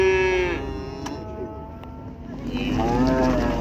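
Cow at a livestock market in Kyzylorda giving a loud, close, drawn-out moo that fades, followed by another lowing call rising near the end amid busy market background noise.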